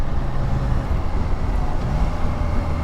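A Triumph Tiger Sport 660 triple-cylinder motorcycle engine runs while riding, a steady low drone mixed with road and wind rush at fairly constant loudness.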